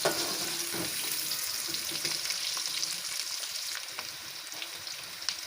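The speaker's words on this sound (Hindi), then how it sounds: "अब इसको फ्राई करेंगे।" Meat for achar gosht sizzling and frying in a pan with onions, a steady close crackle with occasional stirring scrapes and faint liquid sounds.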